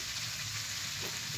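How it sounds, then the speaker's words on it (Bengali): Ground coriander and cumin paste frying in a pan for a raw jackfruit curry, a steady close hiss of sizzling oil with no break, no talk. "ভালো করে ভেজে নিতে হবে।"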